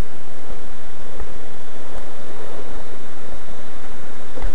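Water rushing at Cachoeira do Roncador, a waterfall amid forest, comes through as a steady, dense broadband roar with wind buffeting the microphone and a few low thumps. No one speaks.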